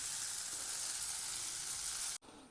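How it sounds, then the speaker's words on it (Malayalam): Small cut pieces of chicken sausage sizzle steadily in hot oil in a pan, a loud, close, continuous hiss that cuts off abruptly near the end. "എണ്ണ നന്നായിട്ട് ചൂടായിട്ട് വരുമ്പോൾ അതിലേക്ക് നമുക്ക് ചെറുതായി കട്ട് ചെയ്തിരിക്കുന്ന സോസേജ് നമുക്കതിലേക്ക് ഇട്ടൊന്ന് ഫ്രൈ ചെയ്തെടുക്കാം"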